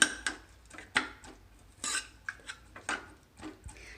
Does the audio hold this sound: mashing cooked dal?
yes